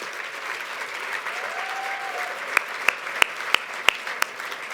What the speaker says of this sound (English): a round of applause for our winner in high school field,